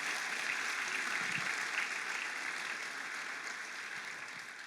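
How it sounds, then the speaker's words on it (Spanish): A church congregation claps together in steady, sustained applause, moderately distant and fairly quiet, slowly fading slightly toward the end. "Fuerte ese aplauso al Espíritu Santo en esta mañana."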